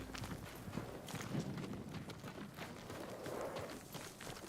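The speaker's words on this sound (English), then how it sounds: "They're samurai horses." Horses moving in the samurai-era video game Ghost of Tsushima make soft, rapid hoof clip-clops, faint and set low in a dense wash of ambient game sound.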